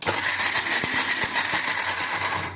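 A mixer grinder under heavy load whirs loudly and steadily with a high, harsh buzz, broken by a few sharp clunks as the contents knock inside, then stops.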